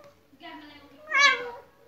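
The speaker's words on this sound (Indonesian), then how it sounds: "kucing suka mengeong-ngeong terus-terusan" A cat meows in two drawn-out, harmonic calls, the second louder and more insistent, close and fairly clear with a faint voice in the background.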